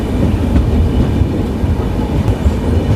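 The 15961 Kamrup Express passenger train runs on rails, heard from inside a crowded coach as a loud, continuous low rumble with faint rhythmic clatter from the wheels.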